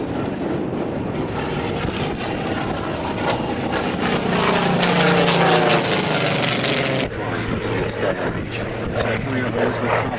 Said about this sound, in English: Here it comes very fast, from left to right, across the front of St. Albans Bay here, showing off the underside of the aircraft